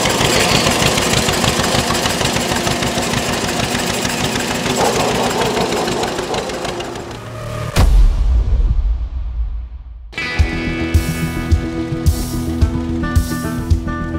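A loud 1920 John Deere Model D tractor engine chugs and knocks rapidly, then the sound shifts abruptly to a different rhythmic mechanical clatter with sharp intermittent bangs.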